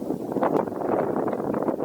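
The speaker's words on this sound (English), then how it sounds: "it's still a bit windy out." Steady, rushing wind gusts across an outdoor early-spring trail beside a creek among treetops, a continuous broadband roar buffeting the microphone for the whole stretch with no talk.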